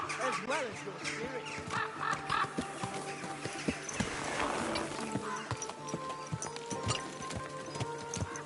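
Horse hooves clip-clop along the busy streets of Kuttenberg in Kingdom Come Deliverance 2, a steady run of hoof beats mixed into town bustle, with people talking throughout.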